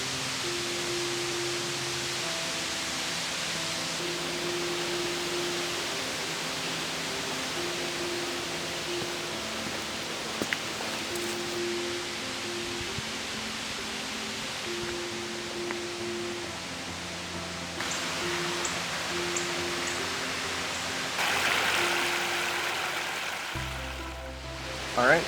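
Charleston Falls, a waterfall in a nature preserve, pours with a steady, even broadband rush heard up close, unbroken for the whole stretch, with a faint low tone running underneath.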